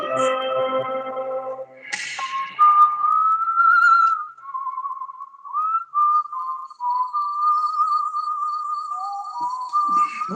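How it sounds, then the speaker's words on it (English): A person whistling a wavering melodic tune, clear and close, with sustained pitched notes sliding up and down, following a brief burst of other sound at the start. "What's up with the whistle?"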